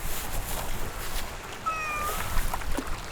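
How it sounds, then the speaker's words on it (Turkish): A cat meows at a seaside fishing spot on the Pelitköy shore, a few short rising cries over steady outdoor background noise, moderately near with no talking. "Kediler miyavlıyor."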